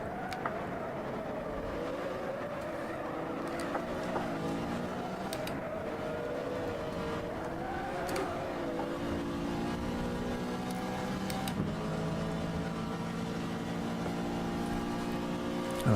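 A historic GT racing car's engine at the Eifel circuit in rFactor 2 whines steadily at moderate volume, its pitch rising and falling with revs and small dips suggesting gear changes.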